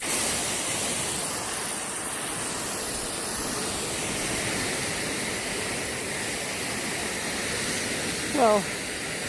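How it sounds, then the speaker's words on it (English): Overhead sprinkler spraying water onto thirsty corn in a hot-weather garden, a steady broadband hiss of falling spray that continues unbroken, with a short voice near the end. "giving my thirsty corn some water"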